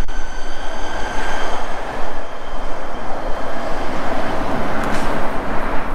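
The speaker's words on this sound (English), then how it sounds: "And here we have the train." A train rolls past on a 1909 viaduct railway between Chinatown and Lincoln Heights in Los Angeles, a steady loud rumble of wheels and cars throughout with faint high squeal tones, close by and continuous.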